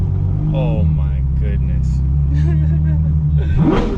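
A Ferrari 812 Superfast V12 with a bagpipe exhaust and no valves rumbles deep and steady at idle nearby, then flares into a sharp rev at the end while a man briefly exclaims over it.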